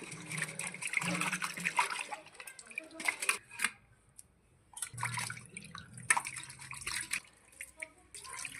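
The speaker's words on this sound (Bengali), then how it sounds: "আমার বর কি সুন্দর মাছগুলো পরিষ্কার করে ধুয়ে দিচ্ছে" Water splashes and trickles as fish are rinsed clean by hand, a soft, close, uneven sloshing that comes in short bursts with quiet pauses between them.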